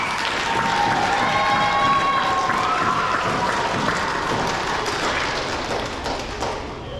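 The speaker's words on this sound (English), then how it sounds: "Let's give the 5th grade engineer award winners a round of applause." An elementary school audience at a grades 3-5 awards ceremony gives a sustained round of applause for fifth-grade engineering award winners. Dense clapping fills the room throughout, with a few cheers rising over it, then fades slightly near the end.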